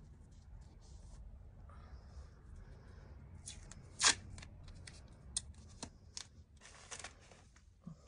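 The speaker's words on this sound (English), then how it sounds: "We may go ahead and use some blue tape to tape the sides so that it holds" Blue painter's tape is pulled off the roll and pressed along the sides of a piece so it holds. Scattered close crackles, rips and taps ring out over a low background rumble, with no talk.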